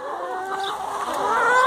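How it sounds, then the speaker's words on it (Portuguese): Chickens at an aquaponics setup, clucking and calling steadily at close range, a continuous busy chatter of several birds with occasional higher squawks and no one talking. "encerrar o vídeo com as galinhas aqui"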